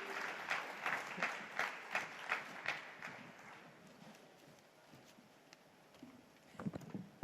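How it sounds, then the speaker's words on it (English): Rhythmic clapping from an audience, with sharp bursts at a steady pace that gradually thins out and fades toward the end. "Ladies and gentlemen, a big round of applause for Gautam Gambhir."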